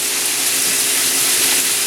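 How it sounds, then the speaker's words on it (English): Seasoning sizzles in a small hot pan, a steady loud bright hiss that stays even throughout with no talking. "this will start sizzling and cooking so quickly, really fast"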